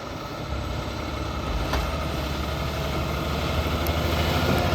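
A Yanmar SA425 compact tractor engine runs under steady load while drop spreading gravel on a long driveway, a constant close, even drone with no pauses.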